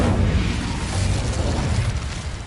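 An Incendio fire spell bursts in Hogwarts Legacy on PS5, a loud, close, roaring blast of flame that holds steady for a couple of seconds before easing slightly.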